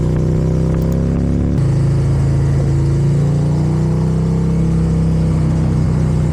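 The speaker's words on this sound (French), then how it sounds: "Riyad part essayer la moto avec l'ordinateur branché à la moto" A touring motorcycle with a Stage 2 tune runs steadily on a test ride with a computer hooked up for mapping. The engine holds a loud, continuous drone with a slight jump in pitch partway through, close and alone.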